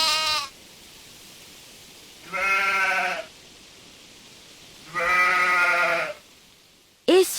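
A sheep sound effect gives three separate bleats, loud, close and wavering, with quiet pauses between them. The last bleat is cut short at the end.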